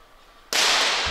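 A single loud, sharp report from a 50m pistol at a men's shooting final at the 2016 ISSF World Cup in Rio de Janeiro bursts in after a quiet moment, close and broadband, with no talk.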